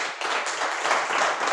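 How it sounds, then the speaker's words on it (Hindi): An audience applauding at a business meeting, a short burst of dense, close clapping that stays loud and even from start to finish. "एक बार जोरदार तालियां"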